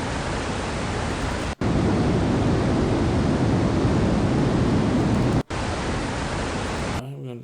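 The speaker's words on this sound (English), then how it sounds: "There is a waterfall." A waterfall background sound loops in an RPG Maker MV game, a loud, steady roaring rush broken by two brief cuts.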